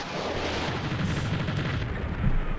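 Twin cannons of a Panavia Tornado IDS firing in Fighters Anthology, a dense continuous rattling roar that stays loud and steady throughout.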